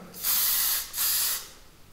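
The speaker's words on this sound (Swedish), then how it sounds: "jag sprayar ena sidan först" Two short hissing bursts from a hairspray can sprayed onto one side of the hair during styling after a home haircut, each burst about half a second, close and clear with no talking.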